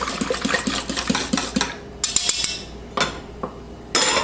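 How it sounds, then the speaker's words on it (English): Eggs stirred into foamy yeast in a mixing bowl, with a run of quick, rhythmic clinks and scrapes of a utensil against the bowl followed by a few separate louder knocks, close and clear with no talking. "You'll add your eggs. Give it a quick stir."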